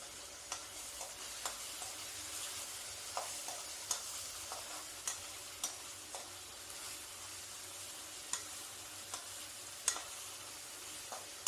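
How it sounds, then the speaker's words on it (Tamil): Onions softening in a pan on low heat for restaurant-style Gobi Manchurian, a soft steady frying sizzle with regular light stirring clicks and scrapes of a spoon against the pan, close and without talk. "வெங்காயம் லேசாக வதங்கியாச்சுங்க."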